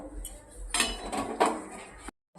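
Aloo paratha potato filling with chopped coriander being mixed, a spoon clinking and scraping against the vessel in a few uneven bursts before sudden silence.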